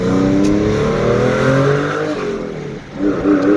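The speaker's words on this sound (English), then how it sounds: "The car drives pretty good." A car engine revs hard while accelerating in traffic, a loud rising drone that drops briefly at a gear change and then climbs again.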